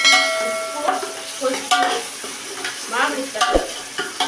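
A frying mixture is stirred in a pan while cooking an Andhra-style fish curry. Scraping strokes come in an irregular rhythm over a soft sizzle, with a sharp clink of the utensil near the end.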